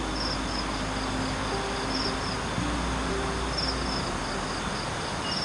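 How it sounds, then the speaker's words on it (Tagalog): Crickets chirp steadily at night at a camp in darkness, forming a dense, unbroken insect drone with faint repeating trills over a soft background hiss. "Walang ibang tunog kundi pagaspas ng kailugan, mga ibon, at mga kuliglig,"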